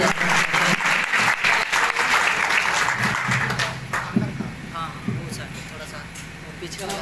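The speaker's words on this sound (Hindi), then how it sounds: "तो आइए एक बार हमें भी ताली बजाते हुए" A congregation at a prayer meeting in Latehar claps together, dense steady applause that fades gradually over several seconds, with voices talking over it toward the end.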